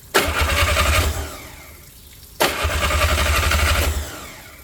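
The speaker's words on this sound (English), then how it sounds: "So I'm going to reach down here and grab the remote and start it up" An inboard Atomic 4 boat engine cranks and catches twice in succession, each start a loud close burst of rough engine noise that settles briefly before cutting off.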